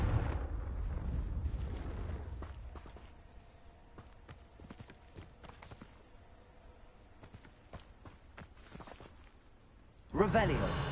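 A Confringo fire-blast spell is cast in the video game Hogwarts Legacy, a loud broadband burst opening the moment, then a lower rumbling spell-and-game bed with scattered impacts before another sharp blast near the end.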